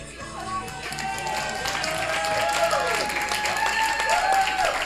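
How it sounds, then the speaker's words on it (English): An audience applauds steadily in a hall, broad clapping that holds fairly even throughout, with a voice and tonal sounds heard over it. "Wild, uncontrollable, spontaneous applause"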